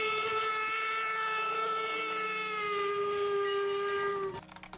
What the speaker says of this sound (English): I'm so glad they don't need to be fueled for you to blow the whistle.